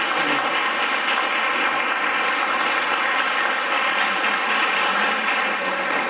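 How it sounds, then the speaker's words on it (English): Audience applause for the candidates at a Bexar County Commissioner Court Precinct 3 candidate forum, a dense, steady wash of clapping that holds at an even level throughout without talk. "Let's give a round of applause for all the candidates"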